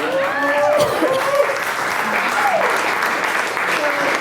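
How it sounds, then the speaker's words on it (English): A crowd gives a steady, dense round of applause that holds through the whole stretch, with scattered whoops and a few voices carrying over it. "One more round of applause."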